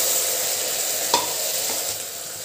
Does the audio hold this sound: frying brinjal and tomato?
yes